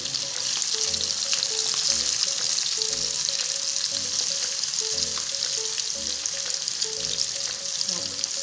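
Onion and tomato frying in a pan give a loud, steady close-up sizzle throughout, with regular scraping from stirring.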